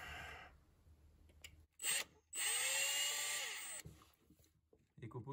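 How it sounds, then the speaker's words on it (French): A power drill runs in a garage during work on a VW Corrado G60, with a brief whine followed by a longer sustained burst of drilling; quieter rustling and a voice come between. "C'est la perceuse qui est pas droite."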